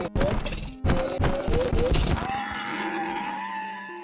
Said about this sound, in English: The zombie horse existed in Legacy Edition, surprisingly, but it doesn't really do anything and makes these horrifying sounds.